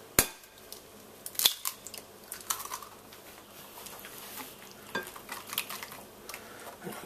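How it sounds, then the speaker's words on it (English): Eggs being whisked into chocolate-caramel cake batter, a quick run of soft clicking and scraping strokes against a bowl after a sharp initial knock, close and moderately quiet. "Give this a good whisking."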